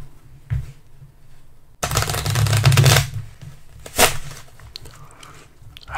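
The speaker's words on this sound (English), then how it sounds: "That's shuffling cards." Playing cards are shuffled close up during a quiet solitaire session, with a loud riffling burst lasting about a second, followed by a sharper snap and softer card handling around it.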